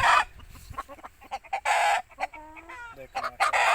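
An aseel hen clucking close by in short bursts, with throaty calls and a rooster-like cry mixed in, over a quiet farmyard background.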